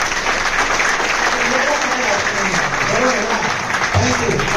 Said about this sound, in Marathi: वाजवायचं असेल तर खरंच मनापासून इमानदारीने टाळी वाजवली पाहिजे मित्रांनो, वरवरची टाळी नको आपल्याला